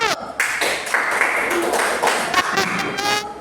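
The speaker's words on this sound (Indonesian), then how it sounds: "Tepuk tangan dulu untuk kelompok 1" Clapping and cheering from a class applauding a student group after its presentation in a teacher-training session, with voices talking and calling out over the applause throughout.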